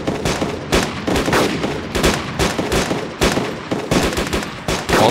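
Rapid bursts of gunfire from a military shooter video game crackle almost nonstop, overlapping loud shots and rattling volleys in a dense, busy firefight.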